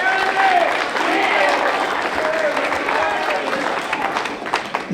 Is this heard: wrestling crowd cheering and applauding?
yes